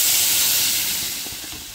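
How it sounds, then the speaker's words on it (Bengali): Water poured into a pan of frying soybeans, potato and pointed gourd gives a loud, close burst of steamy hiss that slowly fades over a couple of seconds. "পরিমাণ মতন জল দিয়ে দেব।"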